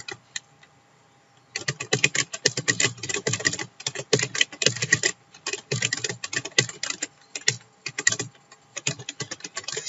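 Rapid keystrokes clatter on a computer keyboard as page content is typed out, starting after a quiet second and running in dense, uneven bursts close to the microphone.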